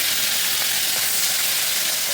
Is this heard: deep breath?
no